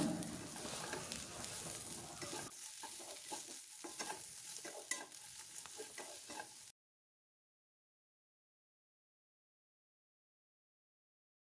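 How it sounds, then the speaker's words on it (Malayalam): Lentils tossed with turmeric, chilli powder and coriander powder, a spoon scraping and stirring through them in a hot pan with a steady sizzle, close and continuous for several seconds before cutting to silence. "ഇനി നന്നായിട്ടൊന്ന് മിക്സാക്കി കൊടുക്കാം"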